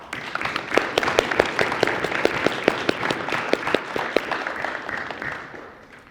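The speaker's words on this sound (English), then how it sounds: "please join me in a round of applause for our investors" Audience applause at a talk, a brisk run of many individual claps rising to a full patter and then fading toward the end, heard alone in a hall.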